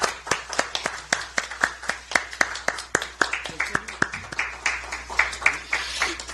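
At a Democratic Party recruitment event, a crowd claps steadily as the party leader puts a jacket on a former police superintendent, with rhythmic moderately loud hand claps under light talking.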